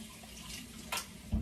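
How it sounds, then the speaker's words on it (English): Tap water running while a container is rinsed out in a kitchen, a faint steady hiss of flow with a couple of brief splashy clunks near the end. "I should rinse this out."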